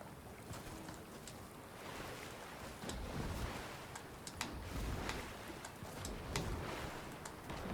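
River current in the Fortnite video game, a continuous broadband rush of flowing water with wind-like noise and occasional splashy peaks, steady and moderately loud with no talking.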